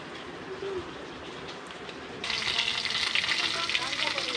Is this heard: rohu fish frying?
yes